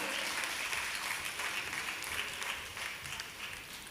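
An audience claps steadily at a Palakkad cultural stage event honouring a social service award recipient, a dense sustained round of applause that fades slightly toward the end.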